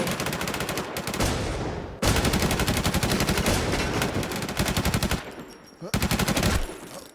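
Rapid automatic gunfire from a shooter video game rattles in long continuous bursts, loud and close, broken by a brief pause near two seconds and a few short gaps near the end.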